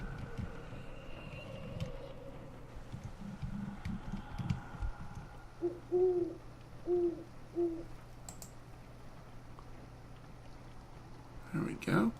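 An owl in the virtual world Second Life gives a few short hooting calls in a regular series, fairly clear and mid-loud, with a person talking before the hoots and other faint game noises around them.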